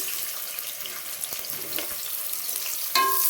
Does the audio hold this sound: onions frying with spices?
yes